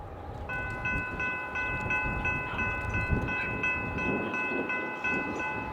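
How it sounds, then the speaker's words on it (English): Loaded coal train taking a crossover, a steady low rumble of rolling freight cars with a sustained multi-tone horn sounding over it, moderately distant and windy. "Had a loaded coal just go by and take the crossover."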